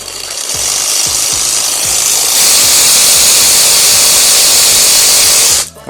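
A cordless variable-speed reciprocating saw runs loud and close with a steady buzzing rattle, its speed picking up partway through before it suddenly cuts off.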